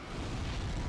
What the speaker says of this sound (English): That's the fire.